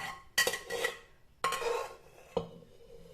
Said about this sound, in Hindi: मैं सिंपली छेद वाली करछी से निकाल रही हूँ।